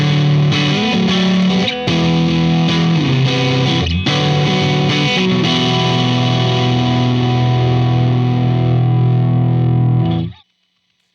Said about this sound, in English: let's go ahead and add that distortion on top of this to see how that really stands out a lot better